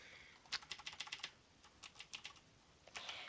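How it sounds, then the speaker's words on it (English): Quiet keyboard typing in a few short bursts of quick clicks, close by, with brief pauses between runs of keystrokes. "if you guys hear my keyboard too much, just tell me"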